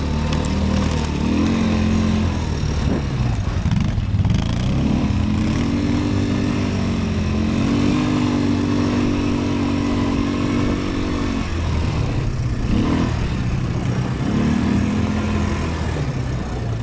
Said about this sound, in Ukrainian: набагато цікавіше кататися вдвох на квадриках